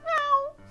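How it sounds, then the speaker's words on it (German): A cat meows once in the video game Professor Layton vs Ace Attorney, a short, clear, rising-and-falling cry followed by a low electronic hum. "Die Katze kam, sah und miaute."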